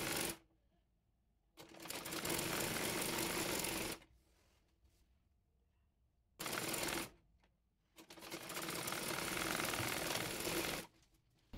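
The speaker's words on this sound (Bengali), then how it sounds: "এবার হাতা মুড়িয়ে সেলাই করে নেব।" Sewing machine stitching the sleeve of a round dress in several separate loud bursts, each a few seconds long with quiet gaps between, close up with no talking.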